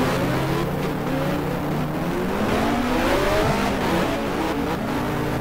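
Racing car engines from the F1 Challenge 1960 video game, racing at Monaco, whine continuously with rising and falling pitch as several cars run close together in a pack, with no voices.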